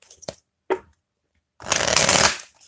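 A couple of soft taps, then a deck of cards is riffle-shuffled in one loud, close, buzzing burst lasting under a second.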